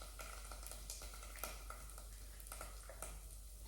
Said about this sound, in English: So what we're just doing here is we're just frying the paste.